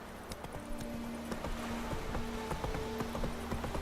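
Roach the horse in The Witcher 3 trotting, a steady run of close hoof clip-clops with faint ringing tones in the background, no voices.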